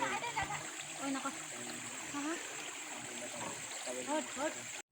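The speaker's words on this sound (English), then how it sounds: "so I'll be filling water from here" Water from a hillside stream being collected into a bottle, a continuous splashing trickle close by, with speech-like murmurs and a steady high hiss throughout.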